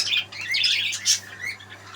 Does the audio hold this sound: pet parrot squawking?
yes